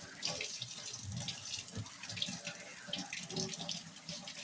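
Tap water runs steadily in a kitchen sink as copper and brass pieces are rinsed under the faucet, a close, even gush with small splashy shifts and no talking.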